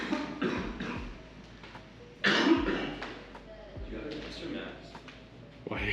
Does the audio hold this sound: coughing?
yes